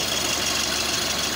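A 1984 Suzuki FX car engine runs at a steady idle, a dense continuous mechanical rumble with a slight knocking texture, close and uninterrupted.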